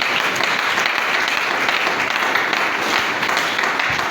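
A church congregation applauds steadily and loudly throughout, a dense, continuous wash of many hands clapping with no pause and no speech.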